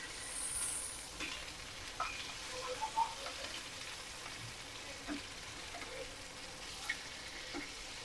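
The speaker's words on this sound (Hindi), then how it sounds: "सो हांव हें आतां फ्राय करूंक घालता" Masala-stuffed pomfret fish fries in a pan with a soft, faint sizzle and scattered pops and crackles, quiet and close, with no one talking.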